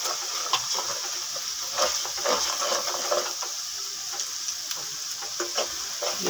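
Spices with ginger, crushed chillies and salt sizzle steadily in a pan while a spoon stirs with repeated scraping strokes, close and fairly loud, without talk.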